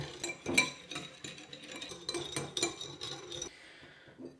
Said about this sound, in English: Then we're gonna brutally whisk it all together.